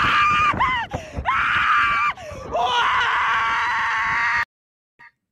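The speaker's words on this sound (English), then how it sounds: "So I'm screaming." A person screams loudly and close, a long piercing shriek broken by short gasping pauses and wavering pitch, ending abruptly into silence.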